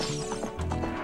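Horse whinnying and hooves clip-clopping in The Legend of Zelda: Ocarina of Time, near the Haunted Wasteland desert; a short burst of game sound effects over background music.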